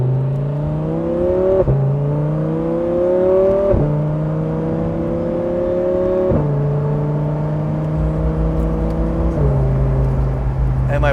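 A 2014 Audi R8 pulls away from a stop, its engine rising steadily in pitch through several quick gear changes, each marked by a brief dip before it climbs again, heard loud and close from the cabin.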